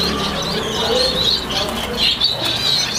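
A pair of combassou finches in a breeding-farm aviary, with bright, high chirps and tweets scattered over a steady background of other birds and faint room noise.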